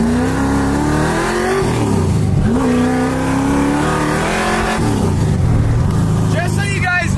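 A car engine revs repeatedly at no more than half throttle, its loud, close tone climbing and falling in several pulls with a brief settle between them.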